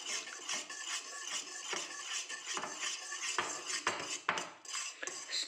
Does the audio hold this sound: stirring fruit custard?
yes